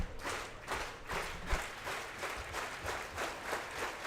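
A crowd at a college baseball game at Wake Forest University claps in a steady rhythmic beat, rising and falling at a moderate distance with little talk over it.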